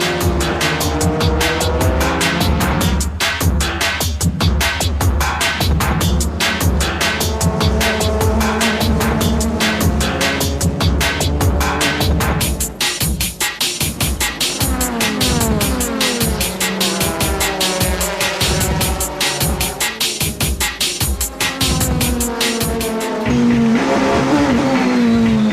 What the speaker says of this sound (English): Here comes Ara in the AU Sirmo Supra